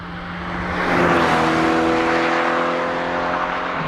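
A Toyota sports car with a 1.8-liter 1ZZ four-cylinder engine runs loud and close, its drone swelling as it accelerates and then holding at a steady pitch.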